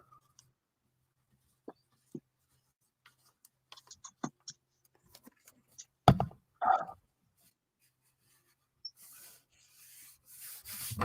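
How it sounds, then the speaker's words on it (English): A burnishing tool rubs across glued paper for a scrapbook tag album, making soft scattered ticks and taps followed by brief rubbing strokes and a faint, steady scuffing near the end, all close and quiet. "And burnish."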